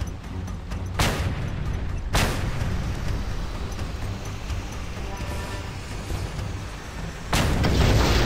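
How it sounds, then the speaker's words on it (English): Frag grenade explosions in the video game Just Cause 2: loud booms burst in at intervals over a dense rumbling roar of game noise that swells again near the end. "Video hits as right as the explosion happens."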